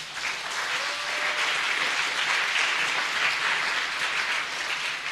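Loud, sustained applause from a church congregation fills the room, a dense steady wash of clapping that holds evenly for about five seconds with no talk over it.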